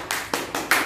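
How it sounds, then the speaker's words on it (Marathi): A classroom of first-grade children clapping their hands, four quick bursts of claps in an even rhythm, close and clear with no talk over them. "टाळ्या वाजवा"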